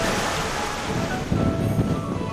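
Waves wash gently onto a shell beach at Shark Bay, Western Australia, a soft continuous rush of surf mixed with wind noise, swelling slightly midway through.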